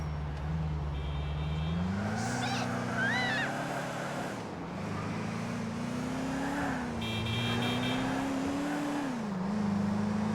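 Car engine in Grand Theft Auto 4 during a chase, a sustained drone that rises and falls with revving and gear shifts, with brief chirps and screeches layered over it, no talking.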